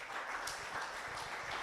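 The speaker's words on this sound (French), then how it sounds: "Nous applaudissons Danielle Lambert." An audience applauding speaker Danielle Lambert at a talk about foals, ponies and horses around Chambord, a dense, even patter of many hands clapping, moderately distant and sustained throughout.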